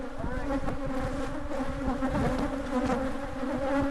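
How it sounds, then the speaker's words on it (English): Africanized killer bees hum in a dense, steady, continuous buzz, close and unbroken throughout, with no voices over it. "So yeah, these are Africanized killer bees."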